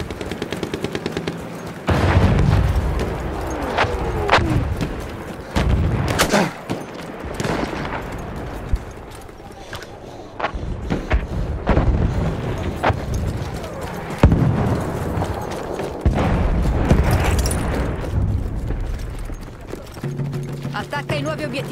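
Enemy artillery pounds a position in a war video game: loud, dense volleys of blasts and rapid cracks roll on almost without pause, swelling and easing in waves.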